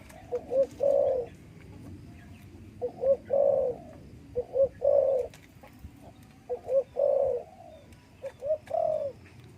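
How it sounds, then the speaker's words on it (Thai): Repeated spotted dove coos from a breeding cage, each a short series of soft rising and falling notes, come in a steady rhythm, close and clear over a low background rumble. "ก็ให้ชมเสียงขันกันไปก่อนนะครับ"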